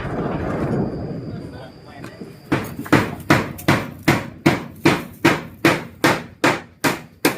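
Nails being hammered during house construction: about a dozen loud, evenly spaced hammer blows ring out close by in a steady rhythm, after a stretch of people talking over background noise.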